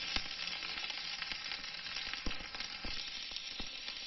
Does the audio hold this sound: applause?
no